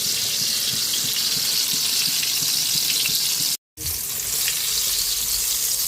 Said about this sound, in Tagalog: Piprito na tayo ng galunggong.